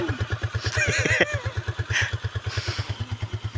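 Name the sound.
motorcycle engine running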